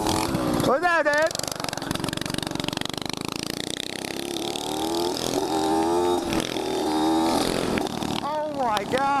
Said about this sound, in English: Who would even want their mini bike that loud?